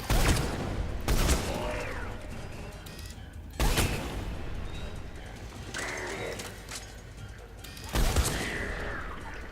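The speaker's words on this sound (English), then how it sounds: "Black Widow's armor-piercing shots are just too strong." Black Widow rifle firing armor-piercing shots in the video game Mass Effect 3: three sharp, loud reports spaced a few seconds apart, each with a brief ringing tail over a steady game background.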